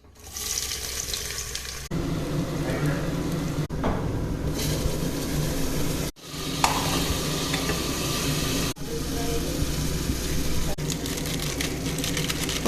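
Spices tempering in hot oil for chicken biryani, a steady broad frying sizzle that runs continuously at close range with brief breaks and stirring clatter, no talk over it.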